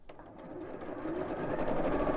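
A sewing machine runs in free-motion stitching, a fast, steady whirring hum that builds slightly in loudness over a couple of seconds, alone and fairly quiet.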